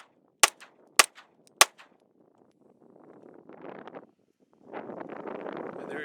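Three sharp handgun shots crack in quick succession at a shooting drill after a malfunction is cleared, each loud and close with a short echo tail, followed by quieter wind and shuffling noise outdoors.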